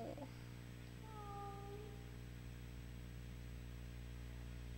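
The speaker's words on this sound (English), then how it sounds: "Kitty's telling me not to go in this room." A single drawn-out cat meow in the video game Calling sounds faintly over a low steady electronic hum, with no talk.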